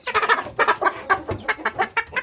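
A rooster in a coop gives a rapid series of loud, close clucks and short calls in an uneven rhythm, with no other voices.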